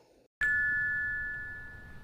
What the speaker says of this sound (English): gingerly press the doorbell, its muffled chime ringing out from behind the door